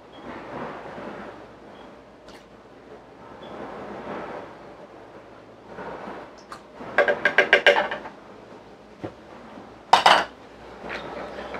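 Metal spoon stirring a Baileys mixture with vanilla in a bowl: scattered clinks and scraping, with a quick burst of rapid taps and a sharper clatter near the end, fairly close.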